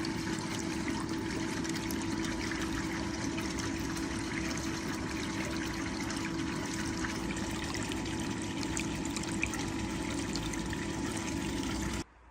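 Water runs steadily through a small gold cleanup sluice, a constant close rushing and trickling flow with a faint pump-like hum beneath, cutting off abruptly at the end.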